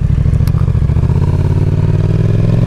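A Yamaha XSR 700 motorcycle on a test ride, its engine throbbing loud and close with a steady low rumble and light clatter, no talking.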